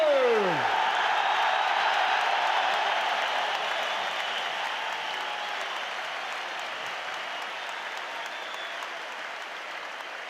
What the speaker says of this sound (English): Paradise, please make some noise for Ange Postecoglou.